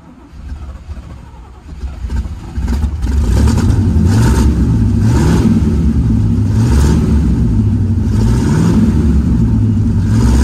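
A 1972 Camaro resto-mod with an exhaust leak rumbles loudly up close, starting low then swelling into a steady, throaty idle with rhythmic pulsing revs throughout, no talk.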